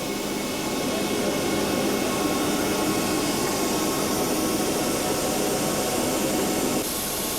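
The jet engines of an Antonov An-124 cargo aircraft run before taxiing, giving a steady, loud broadband roar that holds constant throughout and shifts slightly in tone near the end.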